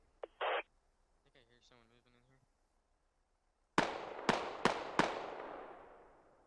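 Four loud, echoing gunshots ring out in quick succession in Squad, each blast trailing off with reverberation, after a short stretch of radio-like chatter and a burst of static.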